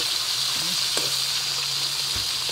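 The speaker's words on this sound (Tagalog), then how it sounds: "iprito yung daing kasi nga bago tayo magprito maggisa ng langka" Dried fish (daing) frying in a pan makes a steady, close sizzle that continues without pause, with faint clinks and stirring sounds from the pan and no talking.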